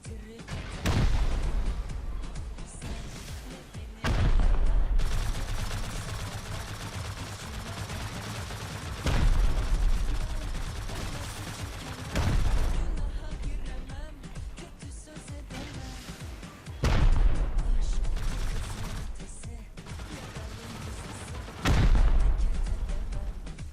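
Repeated loud bursts of gunfire and rocket explosions tear through a video game raid in which buildings are being destroyed, booming every few seconds over a continuous dense rumble of fighting.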